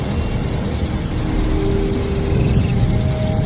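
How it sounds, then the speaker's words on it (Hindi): A truck engine in an animated horror cartoon drones steadily and loudly throughout, a continuous mid-pitched rumble that swells slightly as it draws nearer, with no talking. "ये तो वही ट्रक है जो गुल्ली को रास्ते में मिला था।"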